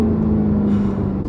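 An Alfa Romeo 8C Competizione engine hums while driving, a steady low throaty drone held at one pitch, close and loud with no talk.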